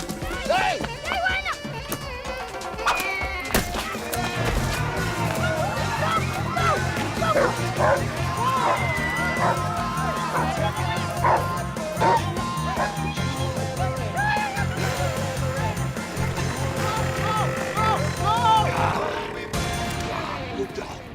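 A dog barks and yips over music and movie dialogue, with short repeated barks scattered through a busy scene.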